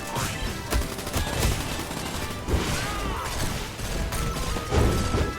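Rapid bursts of gunfire from a shooting video game crack in quick succession, with crashing impacts and mechanical clatter mixed in at a steady, dense pace.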